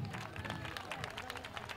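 An audience applauds at a presentation of the Recreativo Puente Mayorga teams in San Roque. The clapping is dense and fairly faint, with a soft crowd murmur mixed in.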